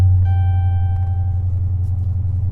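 A 2011 Dodge Charger running just after being started: a low, steady idle rumble close by, with a few thin chime tones over it at the start.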